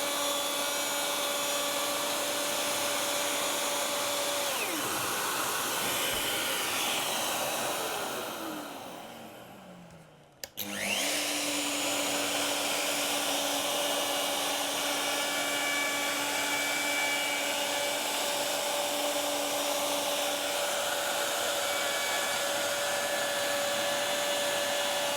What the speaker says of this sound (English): Then lift the router up, come back to this end, plunge down and then make the cut